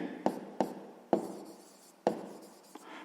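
A pen or pencil writes figures by hand on paper during a sixth-grade maths exercise, giving a few sharp taps and short scratchy strokes at irregular intervals, close and quiet with no talk.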